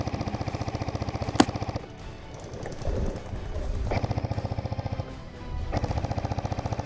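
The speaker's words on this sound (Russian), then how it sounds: "Добью вас пулеметом." A steady, rapid mechanical rattle of an airsoft machine gun fires in long bursts, pausing briefly and resuming, loud and close.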